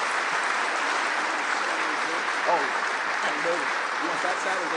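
A crowd at a luncheon applauds steadily to welcome former Baylor coach and athletic director Grant Teaff, with a dense, even clapping that holds for several seconds as a few voices call out beneath it.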